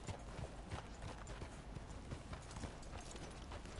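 Horse hooves clip-clop steadily in Red Dead Redemption 2, a continuous rhythmic trot heard up close among busy game ambience on a boat, with no voices.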